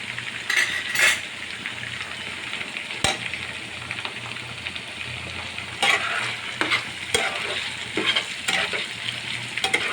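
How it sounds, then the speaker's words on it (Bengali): Garlic and ginger sauté in a hot pan with an ongoing sizzle, while a utensil stirs and scrapes and gives sharp clinks against the metal at irregular moments, heard close up with no talking. "এগুলো এখন আমি মিক্স করব কিছুটা কষাবো"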